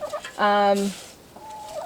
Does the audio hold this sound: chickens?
yes